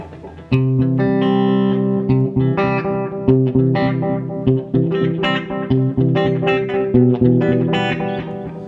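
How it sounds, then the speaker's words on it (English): An electric guitar plays through a VFE Yodeler pedal set to parallel mode with only the delay engaged, a loud close chordal phrase whose picked notes trail into repeating echoes, with no talk. "when you have it in the parallel mode, it's just a delay"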